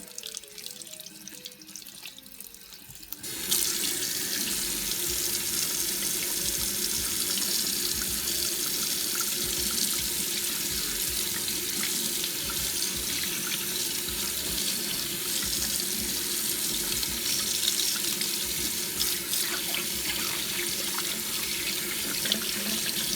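Tap water running into a sink while a Rolex Submariner bracelet is cleaned, starting after a few seconds of quiet handling noises and then a steady, close, continuous hiss of flowing water.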